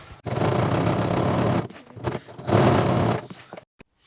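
A sewing machine stitches pockets onto dungarees made from an upcycled Snap-On jacket, running in two dense, steady bursts separated by a short pause, loud and close with no talk.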